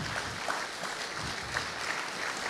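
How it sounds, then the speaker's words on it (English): Applause at a Sukkot scripture reading gathering, a steady, moderate patter of many hands clapping together, heard from a distance and continuing throughout without speech. "Get another round of applause for all our readers today."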